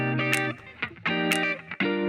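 A K-pop dance track plays a looping synth chord pattern while a sharp snap hits on the beat, twice, each trailed by a wet, roomy reverb tail that spreads the hit into the space.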